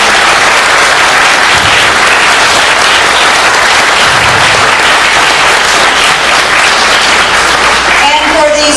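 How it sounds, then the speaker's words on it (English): Audience at a candidate issues forum in Sylva, North Carolina applauds the event's sponsors, a loud, sustained wash of clapping that fills the room, with a voice starting to speak over it near the end. "I want to ask for your applause first for the sponsors of the forum this year."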